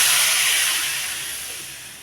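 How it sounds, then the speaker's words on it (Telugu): Tempering of mustard seeds, cumin and asafoetida sizzles in hot oil, a bright, loud hiss close by that gradually fades over two seconds with no talking. "ఇంకేంటంటే పోపు వేసేసుకుందాం."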